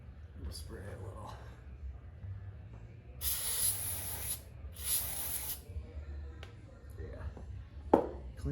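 Brake cleaner hisses out of an aerosol can in two short bursts during fuel line work on a 1952 John Deere MT tractor, quiet and close, with someone talking softly around the sprays.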